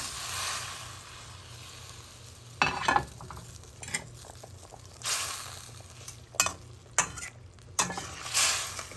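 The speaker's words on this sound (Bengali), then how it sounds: "এবার ঝোলটা দারুণভাবে ফুটে গেছে, তো এই মাছগুলো দিয়ে দিচ্ছি।" Hilsa fish pieces dropped into a boiling cumin-spiced curry, bringing a steady simmering bubble with several sharp splashing and clinking bursts from the pot, close by and with no talk.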